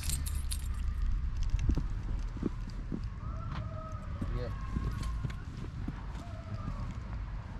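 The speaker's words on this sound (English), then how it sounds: "My keys." Keys jangle in a hand beside a front door on a snowy, frozen day in the Netherlands, light metallic clinks scattered across the clip with soft rustling and background noise.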